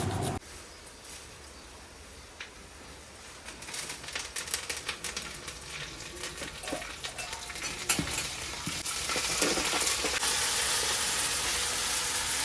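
Dal being tempered with a tadka of hot oil while cooking food for a saint's prasad, a steady sizzle and hiss that swells louder and denser toward the end, with scattered clinks and no talk.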